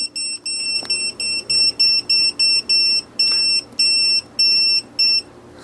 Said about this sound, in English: the audible alarm went off, beeping really fast